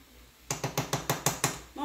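A spoon or spatula scrapes and taps in a skillet of frying cabbage and sausage, seven quick evenly spaced strokes in a brisk rhythm, fairly close and moderately loud.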